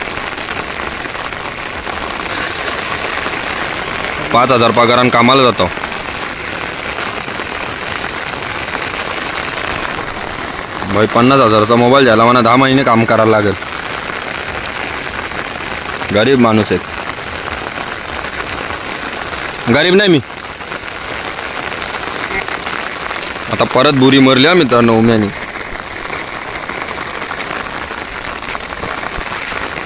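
Heavy rain pours down steadily at a fishing spot, a dense, loud hiss that runs continuously while a voice cuts in with several short bursts of speech.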